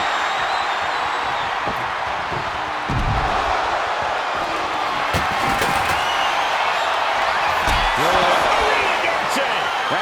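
Wrestling arena crowd in the WWE 2K25 video game roars in a continuous wash of cheering, with heavy thuds and slams of in-ring impacts and a commentator talking over it.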